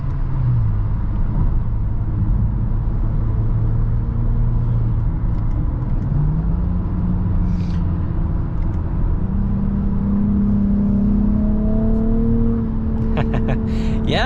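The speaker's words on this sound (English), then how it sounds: "but I could definitely hear the turbo." A 2022 Nissan Rogue with a three-cylinder turbo engine drives along, giving off a steady road rumble and engine drone whose pitch rises and falls with the throttle, heard from inside the cabin with no talking.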